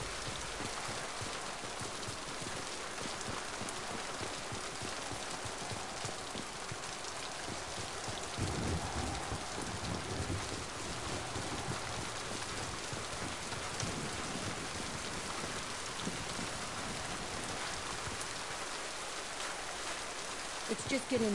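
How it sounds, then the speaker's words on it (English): Steady rain falls across an abandoned facility in Mass Effect 2, a dense, even hiss of drops on hard surfaces that holds throughout, with a brief heavier swell partway through. "Rain, abandoned facility."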